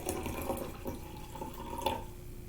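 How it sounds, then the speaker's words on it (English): White distilled vinegar pouring into jars, a soft liquid splashing and trickling with a few small drips and clinks, close but fairly quiet, no voices. "So I'm going to put 3/4 cup of vinegar in both of them just to be fair"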